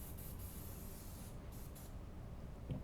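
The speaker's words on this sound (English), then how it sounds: "And I'm going to spray it off a little bit of air here." A compressed-air nozzle blasts a steady hiss over a cleaned pin from a KitchenAid stand mixer during maintenance, continuous and fairly close for nearly three seconds, with a brief clunk near the end.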